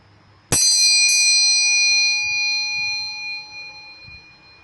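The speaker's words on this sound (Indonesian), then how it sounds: "dengan ditandai lonceng berbunyi" A single bell is struck once and rings out clear and bright, its metallic tone decaying slowly over several seconds in a quiet room.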